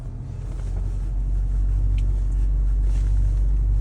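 An off-road vehicle pulls away in low-range second gear on an off-road course at a country fair, giving a steady, close, deep engine rumble that builds slightly at first and then holds level, with no voices.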